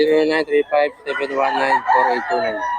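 A gamecock rooster, a full stag, crows at a Bocaue market. The crow comes loud and close in several harmonic bursts, mixed with nearby voices talking.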